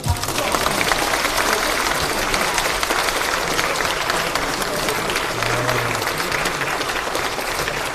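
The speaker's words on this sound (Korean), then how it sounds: "여러분 모두 박수로." A crowd at a Korean political party event claps steadily and loudly for eight seconds, a dense continuous applause with faint crowd murmur beneath.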